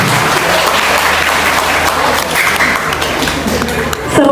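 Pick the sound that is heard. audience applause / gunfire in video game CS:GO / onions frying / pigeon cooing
audience applause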